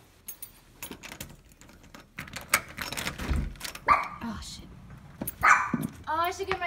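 A dog barks several times in short, sharp bursts at close range, mixed with people talking and scattered handling noises indoors.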